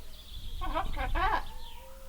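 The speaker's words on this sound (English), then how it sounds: "This is the Raven." A raven calls with a few short, harsh croaking notes in quick succession, fairly close and clear against a quiet outdoor background.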